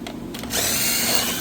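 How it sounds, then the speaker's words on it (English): An impact driver spins up and runs steadily for about a second, making a dense, loud, close whirring buzz, used to bore holes in material during a building project. "I'm using an impact on purpose."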